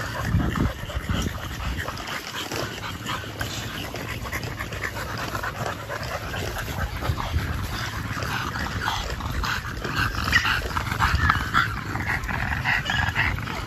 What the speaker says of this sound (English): Let's go ahead and get some puppy footage